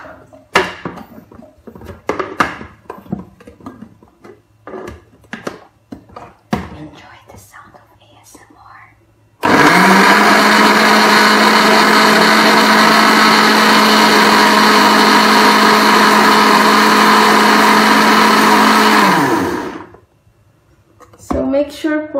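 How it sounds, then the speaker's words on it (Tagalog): A blender whirs loudly and steadily for about ten seconds blending fruit with water for jam, starting abruptly after some clinking and soft handling noises, then winding down to a stop. "Tapos, i-blender ko na."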